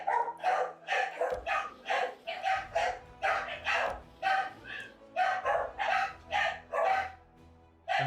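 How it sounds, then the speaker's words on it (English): A dog in the video game Pathfinder: Wrath of the Righteous barks repeatedly in a rapid, loud series of sharp barks close up, with only brief gaps between bursts over a low game backdrop. "Bark, on the dog."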